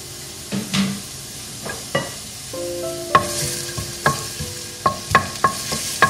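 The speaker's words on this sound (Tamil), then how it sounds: "எண்ணெய் சூடானதும் அதுல நம்ம கட் பண்ணி வச்சிருக்கிற ஒரு பல் பூண்டு, ஒரு சின்ன துண்டு இஞ்சி சேர்த்து நல்லா வதக்கிடலாம்." A sliced garlic clove and a small piece of ginger sautéing in hot oil for prawn Manchurian, with a soft sizzle under sharp clinks of a spatula against the pan that come faster toward the end.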